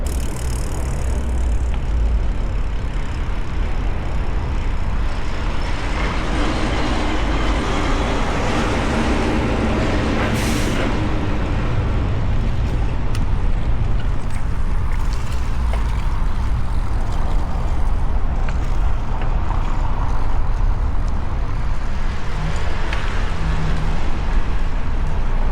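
Street traffic on both sides of a bike trail in Tarpon Springs, Florida: a continuous roar of cars and heavier vehicles rolling past at close range, steady and loud with no voices.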